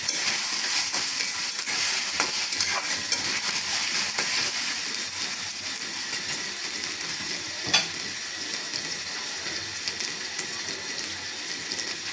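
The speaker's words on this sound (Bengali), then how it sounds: "আদা রসুনটা একটু ভাজা হয়ে গেলে" Ginger and garlic fry in a pan, a continuous bright hiss and sizzle with occasional stirring clicks, close and fairly loud.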